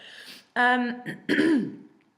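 A couple of short, harsh coughs with some throat clearing, close by, with no talking.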